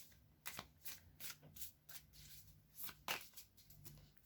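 Oracle cards being shuffled and drawn from the deck: a quick series of soft papery riffles and flicks, close and fairly quiet, with no talk over them.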